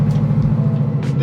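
Chevrolet C6 Corvette with a 3-inch straight-pipe exhaust idling nearby, a loud, steady, bass-heavy rumble held throughout without a break.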